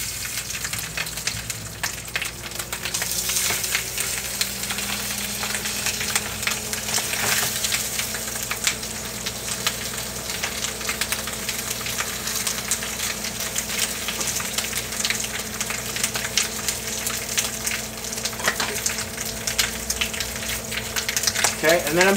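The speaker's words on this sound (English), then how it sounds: "I'm just going to let this guy sear" Pork belly searing skin-side down in a hot pan, a dense, steady sizzle and crackle that runs close and continuous throughout, with scattered pops and a low hum underneath.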